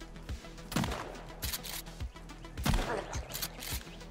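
Gunfire in the survival video game Sons Of The Forest, several sharp shots in irregular bursts at moderate distance, with faint game ambience between them.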